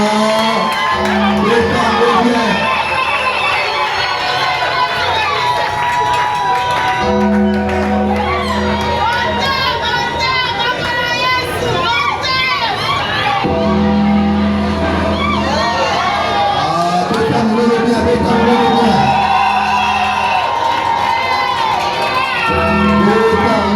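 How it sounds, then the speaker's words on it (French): Wedding guests cheering and acclaiming the bride, a loud, continuous crowd roar full of shouts, whoops and high cries, with a few spoken words mixed in. "Est-ce qu'on peut encore l'accompagner par des acclamations?"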